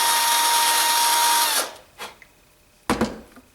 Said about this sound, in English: I'm just going to re-drill that